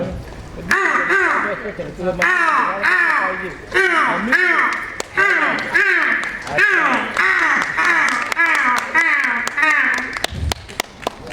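A mimicry artist on stage imitates a crow, repeating harsh, nasal caws about a dozen times in a steady, loud rhythm.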